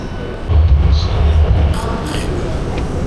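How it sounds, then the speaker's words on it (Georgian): Beijing subway train ride, with a loud low rumble of the carriage that swells in after half a second and holds steady beneath a continuous background of onboard noise. "დავჯდეთ მეტროში."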